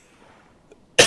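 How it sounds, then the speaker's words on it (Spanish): A single sharp cough bursts out right at the end after near silence, loud and close to the microphone. "perdonad, que me da la tos"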